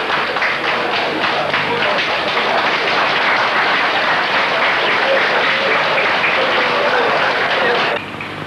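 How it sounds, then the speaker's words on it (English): A large crowd cheers and applauds to welcome back General Tito Okello, a loud dense roar of clapping that stays steady before dropping off at the end. "Cheering crowd welcoming back General Tito Okello."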